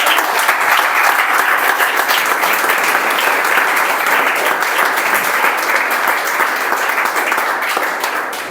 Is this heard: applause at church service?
yes